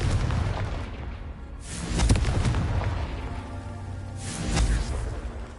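In Hogwarts Legacy on PS5, the Confringo blasting spell sets off two deep rumbling explosions a few seconds apart, each swelling into a roaring boom over a continuous low game rumble.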